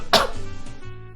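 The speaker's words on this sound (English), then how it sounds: "Clear my throat." A single short, harsh throat-clearing burst up close, fading quickly into quiet room tone.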